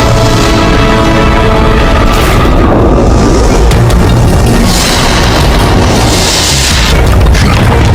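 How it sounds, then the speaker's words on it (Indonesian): A deep, loud boom rolls out during the island explosion in Resident Evil 4 Remake, a dense roaring blast with rumbling debris that sustains for several seconds at full volume without speech. "Pulau ini akan meledak."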